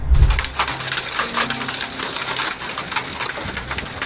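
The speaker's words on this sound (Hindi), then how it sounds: "ओलों की टप टप आवाज से आसपास का शोर दब गया।" Hail falls hard during a storm with wind in a steady hissing patter, with dense rapid ticks and knocks of hailstones striking surfaces nearby. The sound stays loud throughout.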